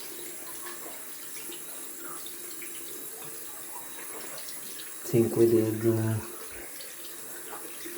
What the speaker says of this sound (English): Gonna rinse off with cold water.